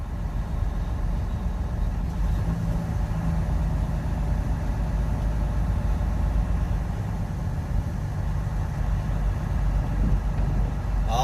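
A pickup truck engine runs at low speed on a narrow wooded back road, a steady mid-pitched hum close by with faint scraping and rustling from branches, throughout the clip with no speech.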